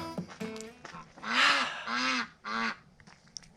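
Ducks honk loudly and nearby at feeding time, three long, harsh calls in close succession after a few shorter squawks, with quiet gaps between them.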